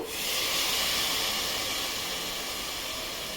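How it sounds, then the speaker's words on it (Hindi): Potato, eggplant and sweet potato go into hot oil with fried masala, setting off a loud, steady sizzling hiss that rises quickly and holds close throughout. "इसे भी मैं अच्छी तरह भून लेती हूँ।"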